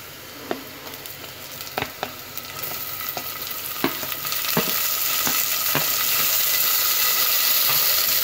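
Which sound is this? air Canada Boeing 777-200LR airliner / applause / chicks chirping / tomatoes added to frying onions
tomatoes added to frying onions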